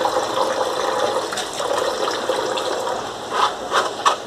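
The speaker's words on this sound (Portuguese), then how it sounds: "porque agora eu vou lavar com limão" Water splashing and pouring over sururu mussels as they are washed with lemon, a steady close rush with a few louder sloshes toward the end and no talking.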